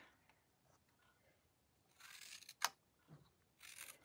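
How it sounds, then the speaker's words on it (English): Scissors snip through paper during a ladybug papercraft project, one sharp close cut standing out amid soft rustling and a few quieter handling sounds in an otherwise hushed room. "And then I'm going to snip these."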